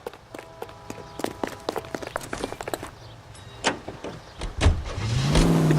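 A car starts up and pulls away in L.A. Noire in 1940s Los Angeles, with a rising engine roar building at the end after a run of clicks and thumps of getting in.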